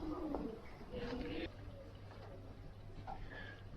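Racing pigeons cooing softly in a loft, a few low warbling calls early on and another faint coo later over a steady background hum.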